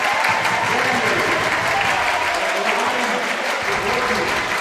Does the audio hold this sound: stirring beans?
no